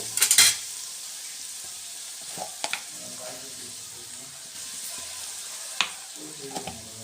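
Ginger garlic paste fries in a pan, a quiet steady sizzle broken by a few sharp scrapes and clinks of a spoon stirring, close and fairly soft, with no talk.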